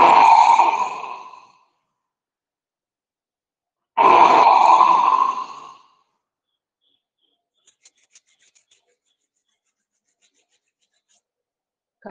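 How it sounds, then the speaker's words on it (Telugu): Forceful, audible exhalations during yoga pranayama breathing practice come in two long rasping breaths a few seconds apart, close and loud, followed by near silence. "ఫోర్త్ స్టెప్లో శబ్దం చేస్తూ శ్వాస వదిలేస్తాం."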